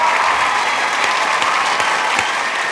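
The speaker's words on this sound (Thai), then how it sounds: "ขอเสียงปรบมือดังๆให้กับพี่อบอนะครับ" A studio audience at a Thai television game show claps loudly and steadily for a contestant, a dense, continuous round of applause with no talk over it.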